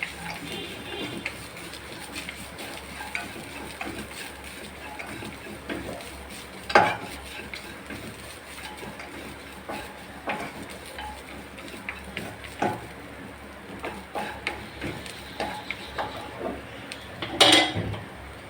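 A spoon stirs chopped jackfruit, grated coconut, cashews and raisins together in a pan, with soft scraping and occasional sharper clinks of utensil on metal, close and steady for the whole stretch.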